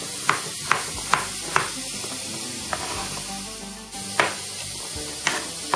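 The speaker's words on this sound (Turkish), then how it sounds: "Şimdi patatesimizi de bak diyebileceğimiz şekilde doğruyorum." A knife chops peeled potatoes for a Turkish onion stew, a series of crisp, separate cuts at an uneven pace, close and fairly clear over a faint kitchen hiss, with no talking.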